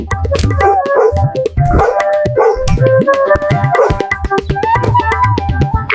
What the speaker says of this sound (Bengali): ঘেউ